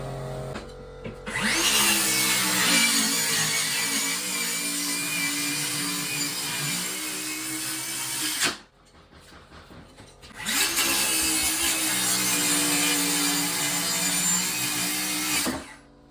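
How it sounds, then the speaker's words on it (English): A power saw cuts through a sheet of plywood in two long, loud, steady bursts, with a short near-silent pause between them. "We'll go cut a piece of plywood."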